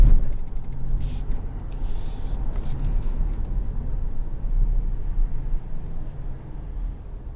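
A 2020 Ford Expedition Max cruising through narrow town roads in Hingham, heard from inside as a steady low road and engine rumble with tire noise, continuous and even throughout.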